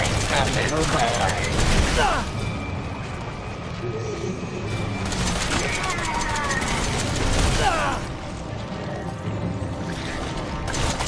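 Repeated gunfire in the Resident Evil finale, loud bursts of shots mixed with dense game effects and music, under occasional talk.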